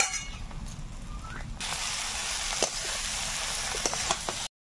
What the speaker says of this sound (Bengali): আলুটা একদম লাল লাল ভাজা হয়ে গেছে।